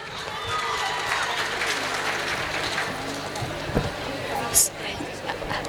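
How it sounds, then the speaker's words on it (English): Audience applause at a school annual day celebration after a traditional cultural performance, a broad wash of clapping mixed with crowd chatter and a few cheers, fairly loud and continuous throughout. "Let's encourage our performance with a big round of applause"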